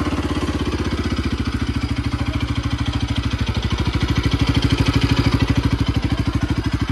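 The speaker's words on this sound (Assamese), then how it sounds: "বাইকখনৰ এতিয়া ভালকৈ আপোনালোকক মাতটো মজাকৈ শুনাই দিম" A new motorcycle engine idles steadily close by, its rapid even firing pulses loud and clear, rising slightly in pace toward the end, with no voices.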